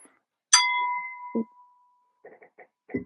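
A coffee mug clinks against a lamp: a single bright ceramic clink rings out and sustains with a clear tone, followed by a few soft knocks and light handling sounds in otherwise quiet surroundings.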